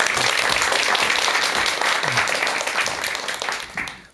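Lecture audience breaks into dense, sustained applause to welcome the speaker, loud and close, thinning out and fading over the last second.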